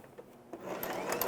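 A sewing machine stitches fabric for a scarf, a short buzzing run that starts faintly and then holds steady and close for about a second.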